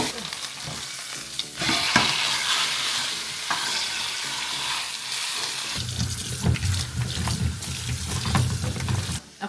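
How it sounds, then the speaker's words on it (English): A large chuck roast searing in a hot pan before going into a crock pot, with a constant loud sizzle and spatter plus stirring and scraping sounds, near and uninterrupted by speech. "we're gonna sear the chuck roast"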